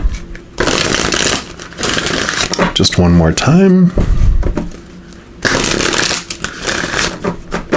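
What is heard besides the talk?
shuffling oracle cards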